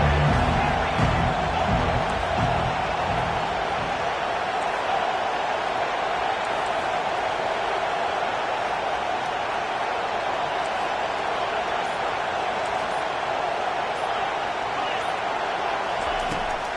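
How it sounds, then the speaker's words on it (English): A stadium crowd in a college football video game roars steadily through a third-down defensive stand, a dense, sustained wall of cheering noise with little change in loudness. "Decibels rising as the crowd gets behind this defense on third down."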